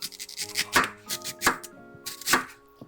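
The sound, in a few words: knife chopping cabbage, onion and apple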